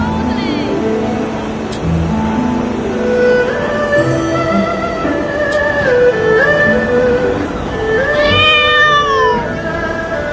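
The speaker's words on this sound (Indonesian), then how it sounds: "这里竟然有只小猫，真可爱。" A kitten meows in the video game Moonlight Blade M, with rising and falling cries set among game music and ambient sounds at a steady, fairly loud level.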